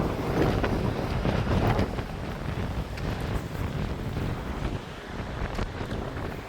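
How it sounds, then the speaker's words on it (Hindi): Strong wind roars across a mountain road on the Hemkund Sahib pilgrimage route, a loud, continuous buffeting rush that batters the microphone with gusty surges throughout, with no talking. "बहुत हवा चल रहा है।"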